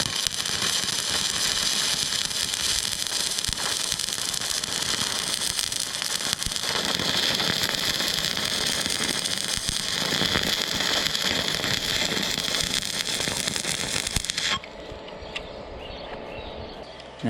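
A stick welding arc crackles and sputters steadily at close range while the weld is weaved side to side during a farrier lesson, a loud dense sizzle that cuts off abruptly near the end, leaving a quieter hum.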